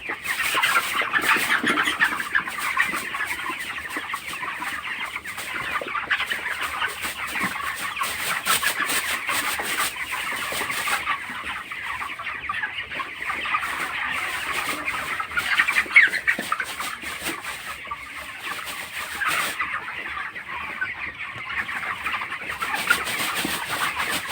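Broiler chickens, twenty-four days old, crowd a poultry farm shed with a dense, continuous chorus of clucks and soft peeps, steady and close throughout with no talking.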